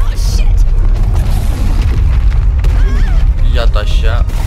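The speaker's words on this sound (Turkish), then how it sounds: "Yine patlamalar eşliğinde." Booming explosions in the video game Bright Memory, loud and continuous with deep low rumble throughout, layered with crackling debris bursts and brief whistling effects.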